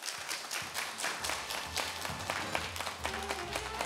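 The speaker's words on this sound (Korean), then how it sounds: "다시 한번 박수 부탁드립니다" An audience applauding at a 2021 joint commemorative ceremony of religious groups in Korea, a steady wash of many hands clapping throughout, fairly distant and even in loudness, with faint voices underneath.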